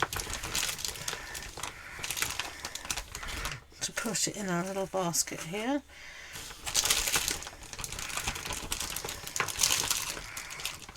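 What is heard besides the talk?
handling plastic Easter eggs from a big bag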